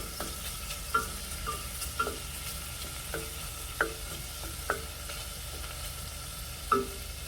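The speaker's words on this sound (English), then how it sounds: "I could watch bacon cook all day long" Bacon frying in a pan for Cuban black beans, a soft continuous sizzle of rendering fat with occasional sharp pops and utensil clicks spaced irregularly, close and fairly quiet.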